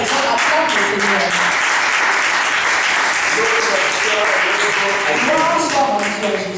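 A church congregation applauds at a sermon, a loud sustained wash of many hands clapping for several seconds with cheers and voices mixed in, fading slightly at the end.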